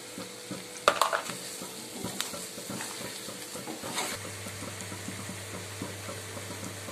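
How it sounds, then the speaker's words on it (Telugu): Chicken fry cooking in a pan in a home kitchen, a soft steady sizzle with scattered clinks and stirring scrapes, a louder clatter near the start and a low hum later on. "చికెన్ ఫ్రై అవుతుంది, ఫ్రై అయిపోయిందండి."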